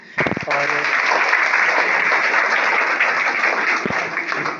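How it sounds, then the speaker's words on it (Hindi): Audience applause at a school seminar on environment and vegetarianism, a dense roar of clapping that swells quickly after a brief voice and holds loud and steady, with a few spoken words near the start and end. "क्या बात, तालियां।"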